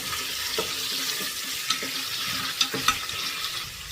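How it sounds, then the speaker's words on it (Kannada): Ginger and garlic fry in a pan for mushroom biryani, a dense continuous sizzle with a few soft stirring knocks and scrapes, close and steady with no speech. "ಈಗ ಶುಂಠಿ ಬೆಳ್ಳುಳ್ಳಿನ ಸ್ವಲ್ಪ ಇದರಲ್ಲಿ ಹಾಕ್ಕೊಳ್ತೀನಿ ಸೊ ಚೆನ್ನಾಗಿ ಒಂದೆರಡು ನಿಮಿಷ ಫ್ರೈ ಮಾಡ್ಕೊಳ್ಳೋಣ"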